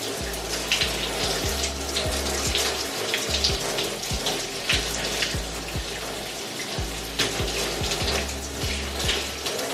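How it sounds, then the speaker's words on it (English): Cold tap water running steadily while hair is rinsed, a continuous splashing hiss broken by repeated low thumps and gurgles, close and fairly loud with no talk. "I'm just gonna rinse it with some cold water to close my cuticles"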